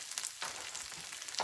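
Butter heating in a pan over medium-high heat before frying eggs, giving a soft, steady sizzle with a few brighter crackles, close by and with no talking.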